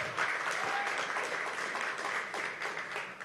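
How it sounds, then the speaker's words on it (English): An audience at the Mayor's Youth Summit applauds, a full, steady roar of many hands clapping at moderate distance that continues without a break and with no clear speech. "clap it up for that for sure"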